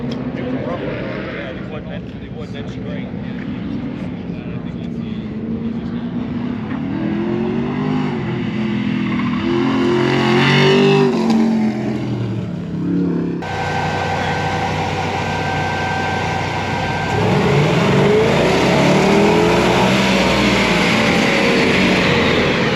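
A Mercedes race car passes on a racetrack, its engine rising and falling in pitch as it goes by, with steady crowd and track noise around and people talking nearby.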